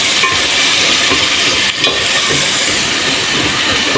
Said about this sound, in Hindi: अदरक लहसुन को थोड़ा भून लेंगे ताकि इसका कच्चापन निकल जाए।